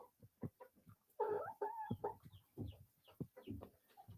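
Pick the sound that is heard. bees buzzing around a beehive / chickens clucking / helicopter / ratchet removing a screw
chickens clucking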